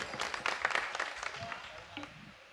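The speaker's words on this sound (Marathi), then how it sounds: "सगळ्यांनी टाळी वाजवा एकदा" Crowd applause at a devotional bharud performance during a harinam saptah gathering in a Maharashtra village, a dense, fairly faint patter of many hands lasting a couple of seconds and gradually thinning out.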